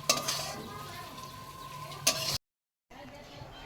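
Shrimp frying in hot oil crackles softly and steadily, with a couple of clinks from a utensil against the pan before the sound cuts out briefly.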